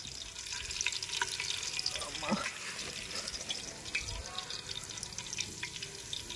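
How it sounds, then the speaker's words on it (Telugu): Green chillies fry in tempering oil for bagara rice, making a steady sizzle with occasional stirring and watery clatter nearby, while people talk faintly in the background. "అందుకోసం ఫస్ట్ పోపులో పచ్చిమిర్చి వేసి వేపేస్తున్నాను."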